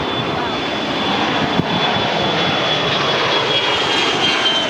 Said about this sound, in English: Oh, it's a big ass plane.